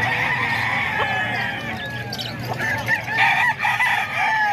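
Roosters crow and chickens cluck in a busy, crowded poultry market in Calumpit, with several overlapping calls rising and falling loudly over a dense background of birds and no speech.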